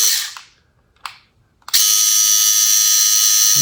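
DIY robot arm motor turning the cab: after a few short scraping bursts, a loud, steady high-pitched mechanical whine starts and runs on without a break, no talk.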